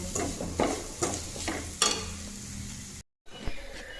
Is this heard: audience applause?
no